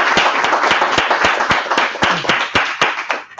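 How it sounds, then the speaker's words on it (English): Audience applause at a Java developer career workshop in Jacksonville, Florida: close, sharp hand claps from a small group, loud and steady for a few seconds before trailing off. "Let's get a big round of applause for you all here."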